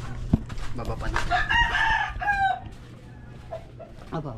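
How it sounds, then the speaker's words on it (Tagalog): A rooster crows outdoors in a rural yard, its drawn-out call rising loud and clear for about a second amid background chatter and ambient noise, with voices talking nearby. "May manok."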